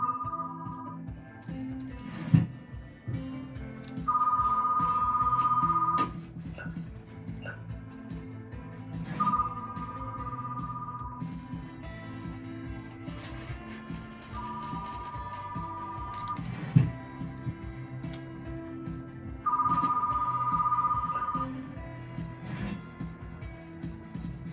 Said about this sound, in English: Answer the phone in the office.